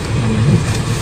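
A tall Nissan Terra SUV driving past on an alternative road from Pandeglang toward Jakarta, a brief close engine rumble with no talk over it.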